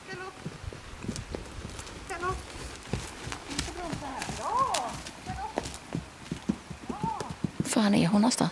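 Horse hooves clip-clop in a steady, close walking rhythm during a training session, with a brief whinny near the end and people talking over it.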